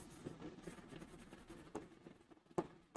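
Pen or pencil writing out a Class 10 arithmetic progression maths solution on paper, a faint, close scratching run with a few sharper taps and strokes near the end.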